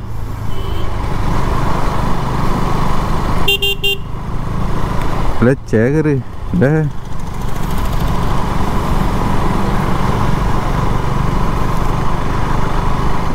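A motorcycle engine drones steadily throughout, with a brief horn toot and a few short bursts of nearby speech over the running motor.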